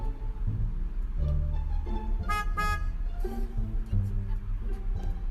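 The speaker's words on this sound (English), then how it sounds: "started honking the horn at them" A car horn is honked by a dog waiting impatiently in the car at a gas station, giving a brief toot amid a busy murmur of background sound.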